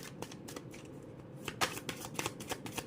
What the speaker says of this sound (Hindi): यहाँ भी 3 शफल करूंगी।